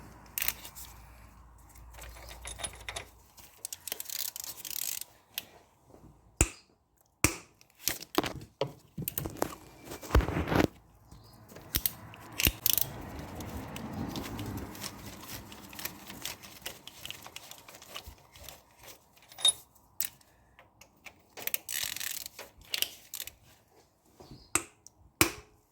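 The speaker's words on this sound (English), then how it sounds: "it's all coming undone with the 3/8 ratchet at the moment" A 3/8 ratchet working bolts loose on the engine of a Ford Fiesta mk1, heard as bursts of quick clicking pawl strokes separated by pauses, close and fairly quiet in a workshop.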